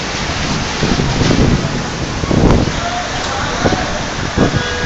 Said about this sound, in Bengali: অনেক বৃষ্টি আসতেছে, আমরা বৃষ্টিতে একটু দাঁড়িয়ে দাঁড়িয়ে দাঁড়িয়ে বৃষ্টির মজা নিচ্ছি